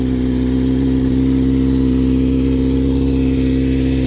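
A motorcycle engine idles steadily after being jump-started from a car and restarted after a long time unused, a loud, close, even hum with no change in pace.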